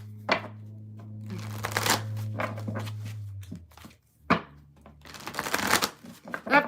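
Tarot cards being shuffled by hand, several bursts of crisp riffling and flapping card sounds separated by brief pauses, close and fairly loud, with a low steady hum underneath.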